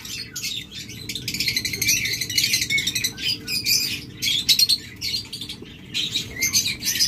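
Par blue Fischer's lovebirds in a Bangladeshi breeder's flock, chirping and squawking in dense, overlapping bursts of shrill calls close by, with brief pauses between volleys.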